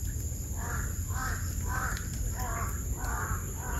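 Crows caw about six times in an even rhythm, harsh and moderately loud above a constant background hum and noise.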